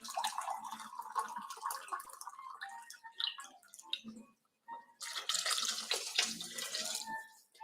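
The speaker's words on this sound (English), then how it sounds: "I've added 2 cups of boiled water." Boiled water poured into a pot of quinoa vegetable soup, a quiet splashing, trickling stream that pauses briefly midway before resuming with a brighter gush.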